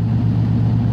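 A car engine fitted with a self-tuning carburetor idles at a steady low rumble, loud and close, with no other sounds.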